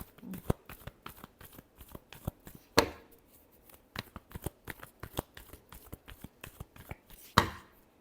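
Tarot cards shuffled by hand in quick, close, crisp bursts of riffling and tapping, irregular and alone with no voice.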